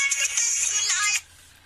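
A phone ringtone chirps in a bright, high electronic trill for just over a second, fairly loud and close, then cuts off abruptly into near silence.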